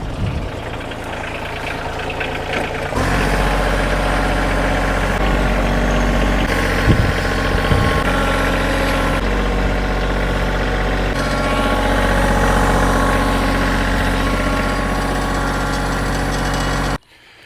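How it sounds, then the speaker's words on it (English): A tractor engine idles close by in a steady, low mechanical rumble that starts abruptly, holds nearly constant for about fourteen seconds, then cuts off at the end. "I think I'm gonna use the tractor though."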